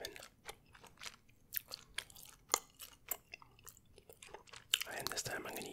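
Gum chewing close to the microphone during a whispered mobile-game session, with soft wet smacks and clicks at an irregular pace, growing denser near the end, alongside faint whispering.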